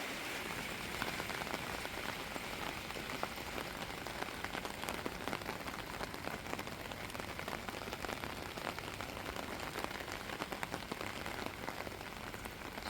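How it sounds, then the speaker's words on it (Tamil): Heavy rain pours down in a dense, steady hiss of drops drumming on surfaces, loud and unbroken with no voices. "சரியான மழை பெஞ்சிக்கிட்டு இருக்குது"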